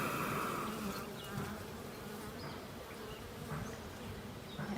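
Steady, close buzzing of many honey bees humming together inside a hive in a dense, continuous drone, with no voices.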